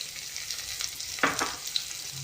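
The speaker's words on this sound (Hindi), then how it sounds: "दोनों को डाल के प्याज के सॉफ्ट होने तक कुक कर ले रही हूँ" Finely chopped onion and green chillies sizzling steadily in a pan of oil with cumin, a soft continuous fry with a couple of brief stirring scrapes partway through.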